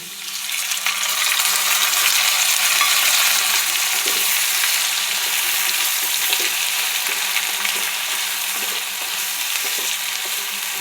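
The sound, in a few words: ground spice paste with bay leaf frying in a pan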